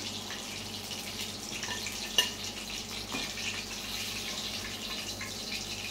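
Fish fries in a hot pan, producing a continuous even sizzle with a faint low hum beneath and one brief clatter partway through.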